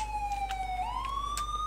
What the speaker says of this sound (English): I'm going to go turn the siren off